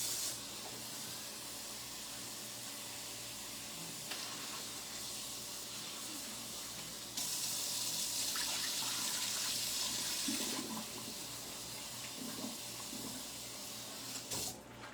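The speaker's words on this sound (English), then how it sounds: "Let me rinse this cabbage off." Cabbage is rinsed under running tap water in a home kitchen, a steady loud rush of water filling the whole stretch with a brief harder gush in the middle.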